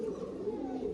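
Pigeon cooing from a male of the Rajan breed, part of a pair kept at home, a low steady warbling hum that runs continuously and close through the whole moment.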